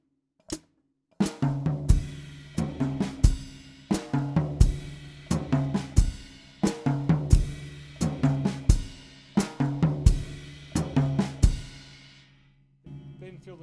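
A snare drum plays a seven stroke ruff rudiment in fast, even alternating strokes, with repeated accented hits forming a steady pattern, close and loud, ending with a single soft tap.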